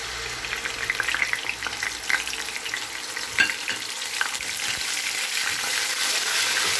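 Onion paste sizzling and frying steadily in hot oil spiced with cumin, cinnamon and black cardamom, close up with brief stirring scrapes, no voices.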